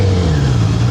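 A motorcycle engine runs at low, steady revs during slow-speed riding skills practice in Florida, a loud continuous hum with no voices over it.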